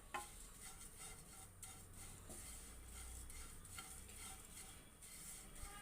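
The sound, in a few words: roasting and stirring aval (flattened rice) in pan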